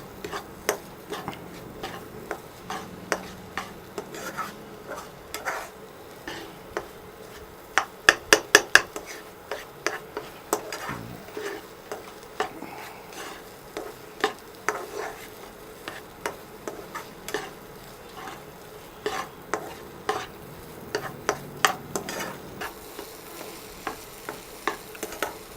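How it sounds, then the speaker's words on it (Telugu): Paneer egg bhurji stirred in a pan as it fries, a continuous soft sizzle broken by frequent spatula clacks and scrapes, some in quick bursts, close by with no speech. "సో ఇది కాస్త ఫ్రై స్మెల్ వచ్చేంత వరకు ఒక 2 మినిట్స్ దీన్ని బాగా స్టిర్ చేద్దాం."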